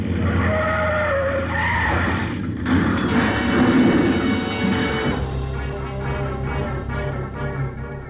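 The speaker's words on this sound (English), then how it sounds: "I headed the car straight into the path of the plane, pulled the hand throttle out as far as it would go, and jumped." Radio drama sound effect of a car driven straight into the path of a landing plane, with a loud, continuous engine roar and skidding tire noise throughout, changing character partway through.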